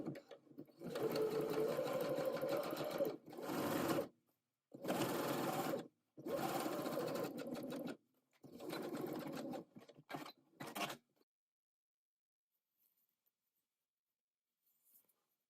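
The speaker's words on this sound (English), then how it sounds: "I stitched it with a zigzag stitch" Sewing machine running zigzag stitches along a dress facing near the neckline, in several loud bursts of steady whirring separated by short pauses, then silence.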